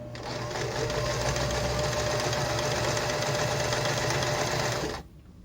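A sewing machine stitches fabric in a straight line, a steady loud mechanical whir running continuously for about five seconds before cutting off abruptly.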